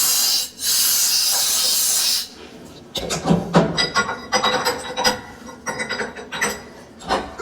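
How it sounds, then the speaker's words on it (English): A CNC machine cutting 3-inch trailer lift blocks: a steady hiss of air or coolant spray for two seconds, then busy, loud mechanical clattering and grinding of the cut, with no talk. "Trying to keep up with this machine."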